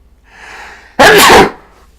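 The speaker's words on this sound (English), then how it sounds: "I'm gonna sneeze." A single loud, close sneeze bursts out after a moment of quiet breathing, lasting about half a second before fading, with no talk around it.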